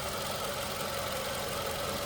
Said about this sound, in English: Engine sounds as it should.